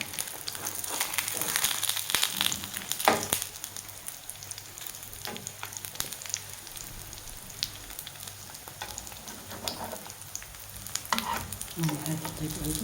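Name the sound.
frying brik pastries in oil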